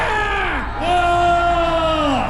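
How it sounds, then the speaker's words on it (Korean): Large crowd at a political rally in Korea raising a loud, sustained collective shout and yell, voices swelling after a brief dip and holding strong until the end. "여러분, 함성 한번 시작!"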